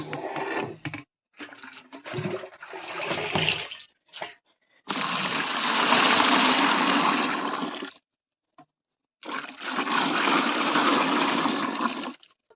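Water is poured from a drum into a tub for bullocks: bursts of splashing, gushing flow come in several pours of varying length, with two long steady streams separated by pauses, close and loud.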